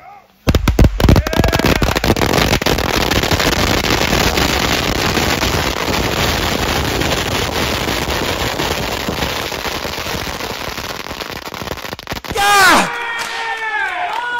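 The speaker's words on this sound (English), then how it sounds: "And they're putting a fireworks show!" Fireworks at an IWA Deep South wrestling deathmatch event crackle and pop in a dense, loud, rapid barrage for about twelve seconds, then excited voices shout as the bursts continue.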